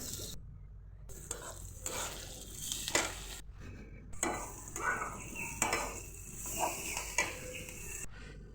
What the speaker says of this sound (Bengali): এখন মরিচটা তুলে পেঁয়াজ আর রসুনটা ভাজার জন্য কড়াইতে ঢেলে দিলাম।